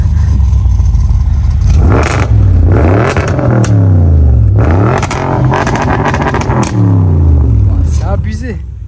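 An Audi RS6 C7 fitted with an Akrapovic exhaust is revved hard nearby, with repeated loud rising and falling engine sweeps, sharp blips and a deep rumble between them, while people talk over it.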